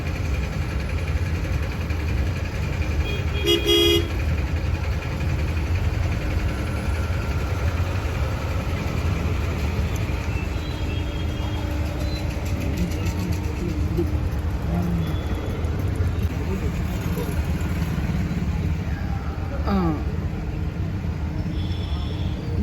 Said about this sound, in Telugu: ట్రాఫిక్ ఒకవైపు అంతా అలా నిలబెట్టేశారు, వెళ్ళనిస్తున్నారు